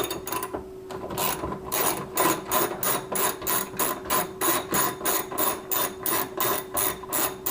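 10 mm screws being removed from the hood latch cover of a 2015 LS Camaro with a ratcheting tool, a fast regular train of close clicking strokes after a brief buzz.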